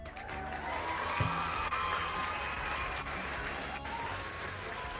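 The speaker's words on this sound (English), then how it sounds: "We get an applause out for that one." Applause sound effect of a crowd clapping steadily for several seconds, with faint cheering mixed in and a voice briefly heard underneath.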